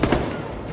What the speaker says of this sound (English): Grenade, get to cover.